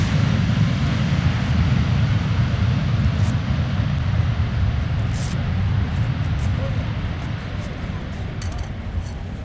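An ANA Boeing 737-800 jet airliner at Iwakuni airport roars with loud, steady engine noise, a broad rushing rumble that holds throughout and fades slightly near the end.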